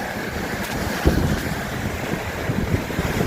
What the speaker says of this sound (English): There's some monstrous waves.